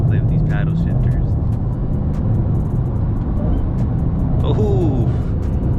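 A 2020 Dodge Charger Hellcat Widebody downshifts through its paddle shifters, a loud, continuous engine roar with a rising whine heard from inside the cabin as people talk over it.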